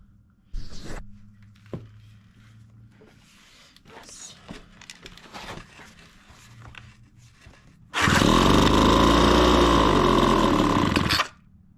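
A Homelite backpack leaf blower engine, with fuel added to the carburetor, coughs and sputters in a few short bursts, then fires and roars loudly at steady speed for a few seconds before cutting off abruptly.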